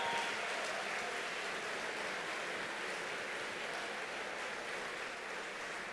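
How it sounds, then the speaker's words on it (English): An audience at the Moveable Feast 2022 evening event applauds staff and volunteers, a faint, distant, steady wash of clapping lasting several seconds. "let's also give a thunderous round of applause to all of the amazing staff and volunteers"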